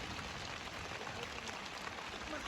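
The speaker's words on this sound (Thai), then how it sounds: "ฝนตกแล้วนะทุกคน" Heavy rain pours down steadily in a dense, even hiss. It is continuous and moderately faint, with no talk over it.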